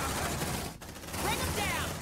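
Gunfire in the video game Aliens: Dark Descent, a dense, steady rattle of shots filling the whole stretch, with a brief dip partway through and faint voice-like tones layered over the barrage.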